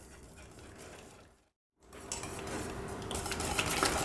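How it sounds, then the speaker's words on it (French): Butter and melted chocolate whisked together in a bowl for a chocolate galette des rois: a steady clatter and scrape of whisk against the bowl, close by, broken by a brief pause before resuming louder. "là je fouette pour bien intégrer donc le beurre et le chocolat"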